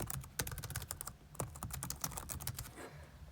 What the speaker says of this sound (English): Oh, you guys can hear my typing?